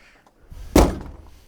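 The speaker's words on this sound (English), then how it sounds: "if I shut this door a minute" A car door on a rare Italian sports car is swung shut with a single solid, close thunk, preceded by faint handling noises and followed by a short fading rattle.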